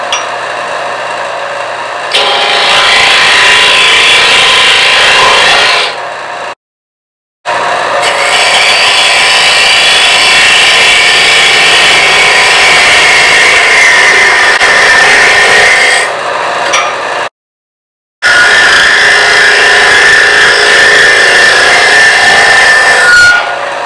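A wood lathe cuts steadily while hollowing a vessel from the bottom at high speed, a loud continuous scraping rasp in long stretches broken by two brief full stops.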